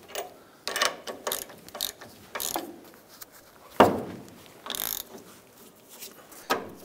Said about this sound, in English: Use our 3/8 ratchet to go ahead and break this free.